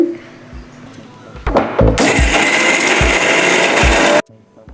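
A loud electric mixer grinder whirs steadily for a couple of seconds grinding coriander chutney into a paste, then cuts off abruptly, after some clattering and scraping beforehand.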